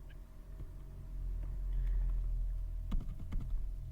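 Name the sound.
pressing arrow keys on a computer keyboard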